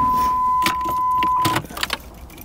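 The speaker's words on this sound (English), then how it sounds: "Let's see if she cranks." A 1989 Pontiac Firebird Formula that has sat for 17 years is turned over by its starter without firing, a steady close cranking drone that stops abruptly, leaving a few faint clicks and rattles.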